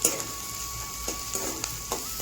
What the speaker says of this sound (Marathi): आणि इकडे चालू आहे आपली भाजी. चांगलं परतून घ्यायचं ना.